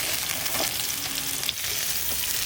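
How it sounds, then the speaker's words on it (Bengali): Pointed gourd (parwal) frying in oil in a pan in a village kitchen, a steady close hiss and crackle of sizzling with a few small pops, no voices. "আমার পটল ভাজা হয়ে গেছে"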